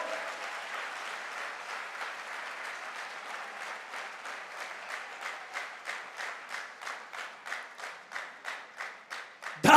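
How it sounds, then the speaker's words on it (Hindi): Audience applause at a direct selling company motivational event, dense and sustained at first, then thinning into slower synchronized rhythmic clapping that swells toward the end, with no talk over it. "तालियां घनघोर।"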